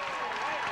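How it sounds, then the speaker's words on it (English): A crowd at a 1988 IPFW women's volleyball game against Northern Kentucky rises in a standing ovation, steady applause and cheering washing through the gym beneath an announcer's voice. "IPFW athletic crowd gives them a standing ovation."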